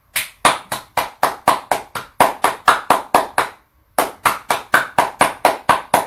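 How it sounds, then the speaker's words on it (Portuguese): A senator claps his hands in a steady run of sharp, close claps, about two per second, with one brief pause midway before the clapping resumes at the same pace. "Aplaudir."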